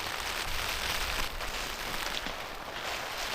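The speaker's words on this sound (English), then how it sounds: "I don't know if you can hear the rain. It's absolutely tipping it down." Steady, dense hiss of heavy rain pouring down, a constant broadband wash with no gaps and no voices.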